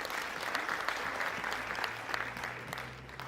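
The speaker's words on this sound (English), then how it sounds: "And I would like all of us to clap for ourselves." Audience of public servants at an Africa Public Service Day celebration clapping for themselves, steady dense applause throughout at moderate distance, with no talk over it.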